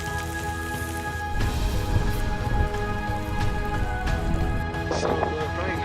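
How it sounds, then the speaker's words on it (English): Light rain falls outdoors on a trek around Yala, a 5,820 m Tibetan holy mountain. A steady, even patter persists throughout, with faint scattered knocks and no clear talking. "So the rain has gotten very, very light"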